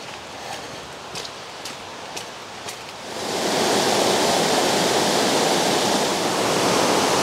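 Creek water rushing along a hiking trail, a loud steady broadband roar that swells in after a few seconds of quieter ambience with faint ticking sounds.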